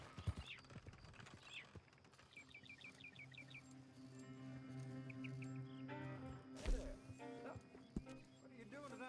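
Horse hooves clip-clopping in the Western video game Red Dead Redemption, a light irregular patter under game ambience with birdsong, a few chirps and a brief thump, while a character speaks.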